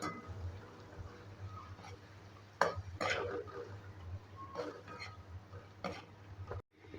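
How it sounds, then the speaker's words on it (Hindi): A spoon stirs garlic-ginger paste frying in a pan, giving repeated scraping and clinking strokes over a steady low sizzle, with a sudden loud clatter near the middle. "जब तक इसकी अपनी स्मेल अच्छी सी खुशबू नहीं आती, उस वक्त तक हम चमची की मदद से इसको हिलाते रहेंगे"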